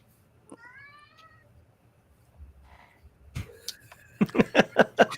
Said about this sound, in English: One of their cats meows as it walks by.